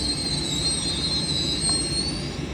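A class 801 passenger train, unit 801226 in Pride livery, passing through Grantham station on the East Coast Main Line, with a steady loud rumble and a high, sustained wheel squeal throughout and no talk.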